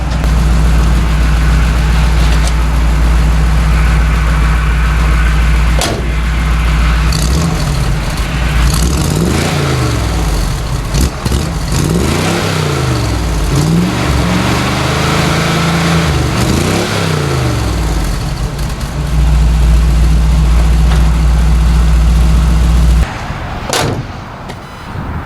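A 1964 Chevrolet C10 pickup with a newly fitted exhaust idles with a deep, loud, steady rumble and then revs several times in rising and falling sweeps before settling back to idle and shutting off near the end.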